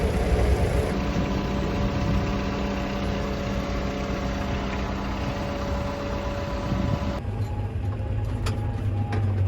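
A Merlo 936 telehandler's diesel engine runs steadily nearby, a continuous droning rumble whose tone shifts toward the end as it moves off, with no voices.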